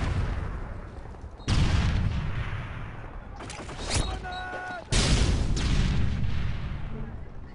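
Grenade and flashbang explosions in a competitive PS3 shooter match, several heavy booms with a lingering rumble and a high ringing whine after one blast, while a commentator talks over the action.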